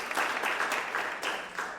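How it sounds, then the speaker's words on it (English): A conference audience at the Museum of Architecture and Design in Ljubljana applauds, with dense steady clapping that swells in waves for nearly two seconds. "give one more round of applause also for the Museum of Architecture and Design"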